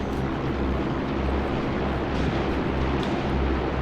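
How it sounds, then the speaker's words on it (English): Il-2 Sturmovik aircraft fly over in the World War II video game Graviteam Tactics, a steady, loud, droning roar of piston engines that holds unbroken from start to finish. "I can hear the planes. There we go. Enemy planes, or excuse me, Allied planes. Il-2 Sturmoviks."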